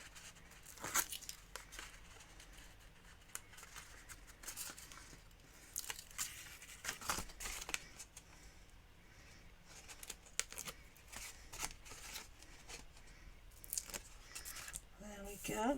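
Adhesive backing strips are peeled off paper craft panels for a Christmas gift box, with sharp intermittent tearing and crinkling bursts at close range and brief handling rustles between them.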